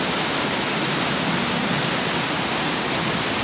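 Steady rain falling outdoors near a workplace entrance, a dense continuous hiss filling the air with no pauses and no voices.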